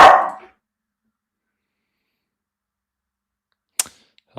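A puppy lets out one sharp bark at the start, followed by near silence and a couple of faint clicks and thumps at the end.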